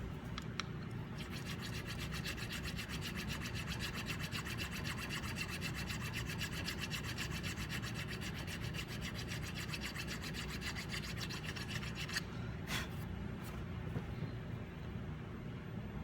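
A file rasps back and forth over guitar fret ends on the fretboard of a Stew Mac Mini T kit guitar, steady quiet rhythmic scraping with a few sharper clicks, close and alone.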